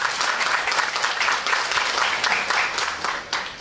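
A crowd applauds steadily for a few seconds at a Royal Brunei Airlines and Tourism Malaysia signing ceremony, a dense, even patter of many hands clapping.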